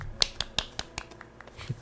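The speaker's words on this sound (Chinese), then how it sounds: "他在拍拍手" An Animal Crossing character claps its hands in a quick run of soft, crisp claps, spaced unevenly and fairly quiet against a faint background.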